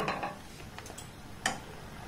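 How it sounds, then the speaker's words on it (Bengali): A spoon stirs milk powder into milk in a pan, giving faint scraping and a few light clinks against the metal at a slow, uneven pace. "দুধের সাথে মিল্ক পাউডারটাকে আমি আরেকবার একটু ভালোভাবে নাড়াচাড়া করে মেল্ট করে নেব।"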